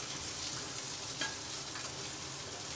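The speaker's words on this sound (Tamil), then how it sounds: "இப்போ கட் பண்ணி வெங்காயத்தை போட்டு நல்லா வணக்கிட்டுக்கோ" Onions sautéing in a pan give off a steady, close sizzling hiss that holds evenly throughout, with a faint stirring scrape and no voices.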